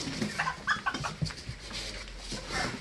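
A Light Brahma chicken clucks in short bursts close by, with rustling and a low rumble of handling noise underneath.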